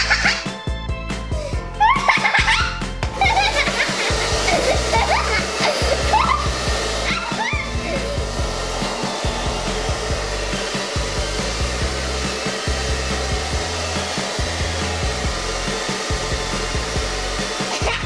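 A hair dryer blows steadily and loudly over freshly marbled ink paper, a continuous close whir lasting the whole stretch with slight fluctuations.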